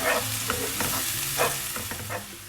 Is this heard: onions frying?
yes